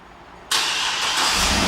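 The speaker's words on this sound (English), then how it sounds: "and the car starts right up." A 2011 Cadillac Escalade 2WD engine fires up on remote start with a sudden loud catch from quiet and settles into a steady, close idle.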